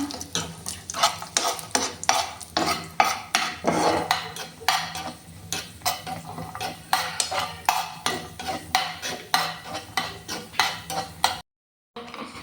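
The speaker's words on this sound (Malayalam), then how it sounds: "കശുവണ്ടി വറുത്തു" A metal spoon scrapes and stirs cashews roasting in a pan with a steady rhythmic clatter, repeated strokes roughly every half second, close by, with no talking.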